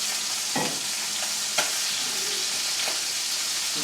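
Steaks for togarashi chili beef sizzling steadily in a hot pan, a dense even hiss with a few brief clatters and stirs, no voices.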